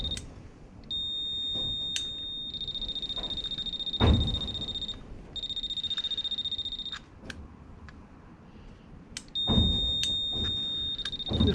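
Ignition switched on in a 1991 Toyota Celica GT that refuses to start: sustained high electronic warning tones sound in several long bursts, separated by clicks and thumps, with no engine starting.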